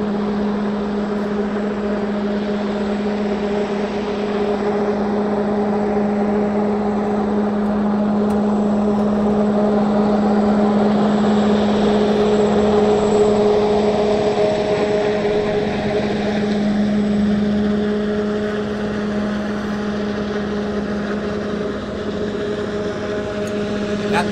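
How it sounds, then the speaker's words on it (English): Aircraft rear engine and propeller spinning up, a steady droning hum with sustained tonal lines that swell slightly in the middle, loud and continuous with no talk. "There they are, they're spinning up the rear engine"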